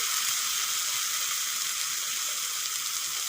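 Masala sizzles steadily in a hot pan while a Bengali dish of breadfruit with prawns is cooked, after chilli paste has been well fried and ground spices are about to go in. The hiss is bright, continuous and close, with no voices.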